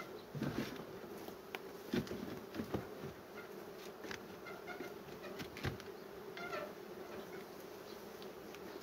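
A very aggressive Carpathian honeybee colony buzzes steadily and softly throughout at an open hive, with individual bees flying close past in brief louder swells.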